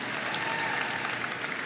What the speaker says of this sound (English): A clap for Kenny Loggins, a clap for Mr. Rogers.